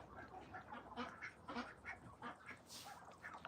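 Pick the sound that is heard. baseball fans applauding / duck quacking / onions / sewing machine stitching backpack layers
duck quacking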